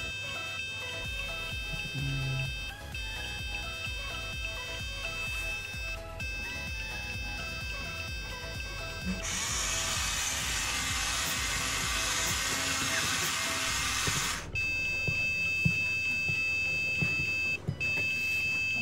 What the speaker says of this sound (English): it will flash a red LED as well as a beep to warn the public of the wildfire